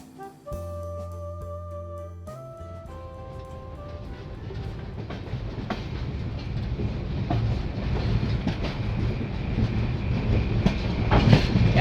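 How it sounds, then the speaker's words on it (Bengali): The Chambal Express slowly enters Gaya station at night, a sustained horn-like tonal blast at first giving way to a growing rumble and clatter of wheels, close and steady, no talk. "আমাদের ট্রেন ধীরে ধীরে গয়া স্টেশন এন্টার করছে"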